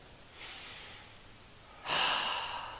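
Two slow, soft exhalations during restorative yoga breathing, the first gentle and airy, the second stronger and breathier, heard close and alone in a quiet room.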